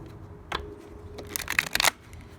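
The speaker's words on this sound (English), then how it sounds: "One more shuffle for Gemini." A deck of tarot cards is shuffled close up, with a few quiet riffling bursts and flicks rising to a louder flurry of card snaps before it stops.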